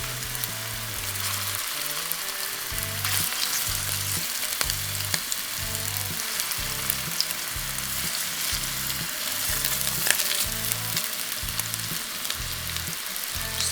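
Venison meatballs fry in a pan over medium heat, giving off a steady, dense sizzle that runs without pause throughout, with a low rhythmic thumping pattern underneath.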